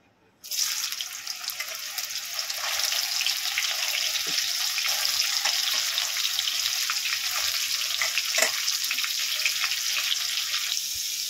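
Soyabean chunks fry in mustard oil with a steady, hissing sizzle that starts abruptly and holds at moderate volume throughout, with a few faint clicks and no talking.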